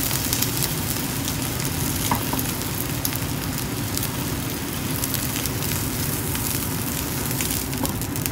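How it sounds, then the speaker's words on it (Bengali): An omelette fries in a pan in a home kitchen, a steady close hiss of sizzling oil that runs unbroken throughout with a few faint pops and no talking. "গিয়ে অমলেটটা বানিয়ে নিই"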